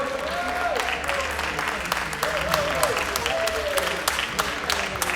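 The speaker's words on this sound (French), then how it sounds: "On applaudit bien fort notre podium." A crowd at a tournament prize-giving applauds the podium winners in a continuous, moderately loud wash of clapping, with sharper individual claps and whistle-like tones sliding through.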